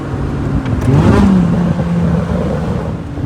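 Lotus Elise with a 2ZZ-GE engine on an InnoKinetic tune revs up, a loud steady engine note rising and falling over about three seconds, heard close from inside or beside the car.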